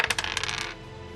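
Dice clattering and tumbling across a table during a tabletop role-playing game damage roll, a quick burst of bright rattling clicks that settles after under a second.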